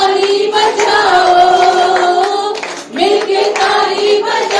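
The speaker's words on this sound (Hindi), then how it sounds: "मिलके ताली बजाओ" A worship congregation claps along to a lively song, rhythmic handclaps running under loud singing and music throughout.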